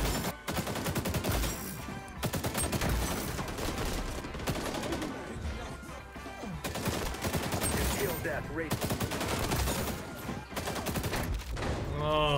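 Shotgun and other gunfire in the video game XDefiant, a dense nearly continuous fusillade of loud close shots with brief gaps, mixed with a voice speaking.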